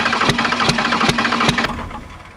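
A Cummins 12-valve diesel engine idles roughly with new injectors fitted, giving a loud, close, lumpy rumble with regular heavy knocks about every 0.4 seconds.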